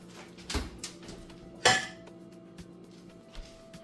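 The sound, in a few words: baking dish being put into the oven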